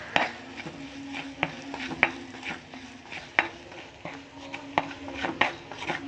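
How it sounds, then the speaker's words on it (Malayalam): Crushed chilli is stirred in a pan with a spoon for a prawn curry. Repeated sharp scrapes and taps come at an uneven rhythm over a low background sizzle, close and moderately loud. "എന്നിട്ട് നമ്മളുടെ ക്രഷ്ഡ് മുളക്, എന്നിട്ട് നന്നായി ഒന്ന് ഇളക്കണം."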